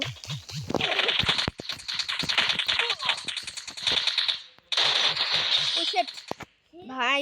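Rapid video-game gunfire rattles in long bursts from a one-on-one shooter match between brothers, broken by short pauses, with a voice talking briefly at the start and end.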